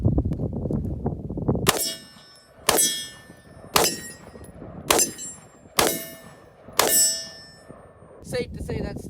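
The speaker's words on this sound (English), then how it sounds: "I'm gonna do a couple rounds on semi just to see if that dot is still zeroed" Delta Team Tactical FRT-15L3 rifle fired on semi-automatic, six loud sharp reports at steady roughly one-second intervals, each ringing briefly, followed by a few quick clanks.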